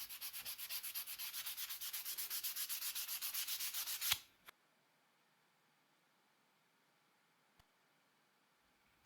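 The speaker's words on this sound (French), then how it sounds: "la forme finale est donnée par le dernier ponçage jusqu'au grain 400" Steady back-and-forth sanding strokes on a knife handle, worked down to 400 grit, rasp rhythmically and close for about four seconds, then stop, leaving near silence with a couple of faint ticks.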